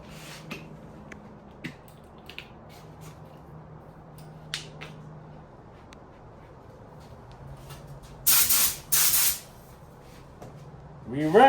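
Short hissing bursts from an aerosol spray can coating a car headlight, two loud close sprays in quick succession amid quiet handling noises and clicks.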